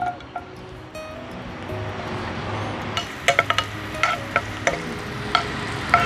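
Small chopped onions sizzle in hot coconut oil in a pan, a steady frying hiss building into sharper crackles and pops over the second half.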